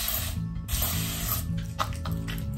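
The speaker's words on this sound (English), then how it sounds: "spray with some water on your hand" A spray bottle mists water onto a hand already holding conditioner, heard as a few short, close hissing bursts with small gaps between them.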